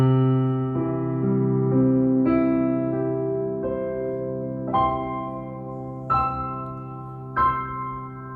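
A Kawai CA99 digital piano set to large room ambience, playing slow chords with individual notes struck every second or so, each ringing out into a long, glowing reverb tail. No voices.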